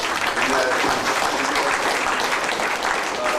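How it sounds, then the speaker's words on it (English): An audience at the AfriCANDO 2017 opening session in Miami gives a round of applause after a ribbon cutting, dense and loud throughout, with a hint of voices under the clapping. "Can we please give a round of applause to all of us?"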